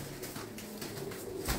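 Racing pigeons coo softly in a loft, low repeated murmuring calls overlapping at a modest distance amid faint background rustle.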